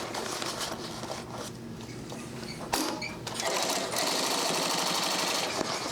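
A sewing machine runs steadily while stitching a U-zip duffle bag, joining a zipper panel to an end panel, with a continuous close mechanical whir and brief pauses and restarts partway through.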